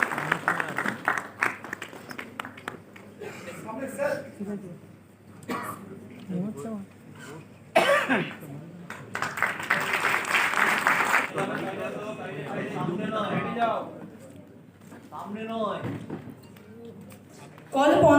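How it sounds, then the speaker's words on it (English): Applause rises at a convocation ceremony for a graduate who came from Asansol, bursts of clapping between stretches of announcer speech over a hall microphone. "Can we have a round of applause for him, please?"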